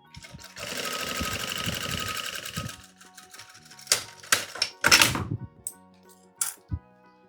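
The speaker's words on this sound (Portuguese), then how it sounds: "Vou costurar aqui a lateral também." A sewing machine runs steadily for about two seconds, stitching the side seam of a children's fabric car organizer, then falls quiet apart from scattered clicks and clacks of handling.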